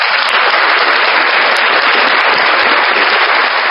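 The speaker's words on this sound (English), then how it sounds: "We have some applause." Applause sound effect from an F998 sound card, a dense, steady wash of crackling claps at full volume, bright and continuous for a few seconds.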